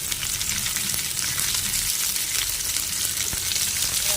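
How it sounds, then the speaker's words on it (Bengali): Potatoes and cauliflower fry together in a pan, giving a dense, steady sizzle with crackling throughout and an occasional faint stirring clink, close up. "আলু আর ফুলকপিকে একসঙ্গে ভাজবো"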